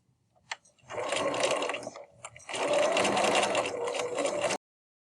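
A sewing machine stitches a reusable tote bag in production-style sewing: a short start, a brief pause, then a long, loud, steady run of fast stitching that stops abruptly.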